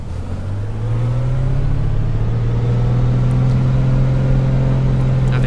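Piper PA-24-250 Comanche piston engine in a flight simulator at full throttle, a loud steady drone whose pitch climbs slightly and settles as the propeller governor catches up, continuous and close with no talk.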